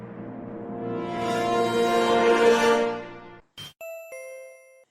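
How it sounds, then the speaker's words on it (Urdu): A doorbell rings in a dramatized Urdu audiobook: a long, swelling chime tone fades, followed by a sharp ding with a lingering ring, loud and close with no voices over it. "ایک بار پھر گھنٹی بجائی۔"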